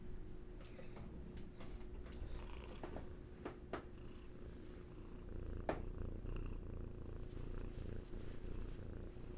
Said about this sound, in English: Always purring. Always purring.